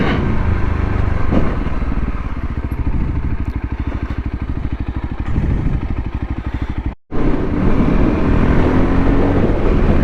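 A Voge 300 Rally motorcycle is ridden over dirt in a loud, close, steady engine drone with a pulsing rumble, broken by a brief sharp dropout near the end before the engine sound returns.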